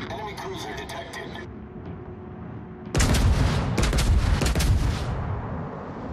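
Heavy naval gunfire from warships in World of Warships, loud booming salvos that surge in after a quieter stretch of ambient battle noise, with sustained rumbling broadband blasts and a game voice speaking early on.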